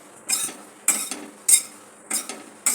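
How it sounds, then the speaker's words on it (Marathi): Metal spoons scrape and clink against a hot pan in five regular bursts, roasting dry grated coconut with two spoons, with quiet pauses between strokes. "दोन चमच्यानी खोबरं असं भाजलं ना सगळीकडून भाजलं जातं आणि खाली लागत पण नाही"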